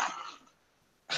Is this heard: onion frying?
no